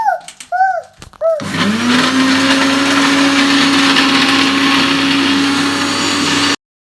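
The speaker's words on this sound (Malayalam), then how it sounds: "നമുക്ക് ഇതടിച്ചിട്ട് ജ്യൂസ് എടുക്കാം" Kitchen blender grinding curry leaves and coconut for juice, a loud steady motor whine running about five seconds before stopping abruptly, preceded by a few brief knocks and squeaks.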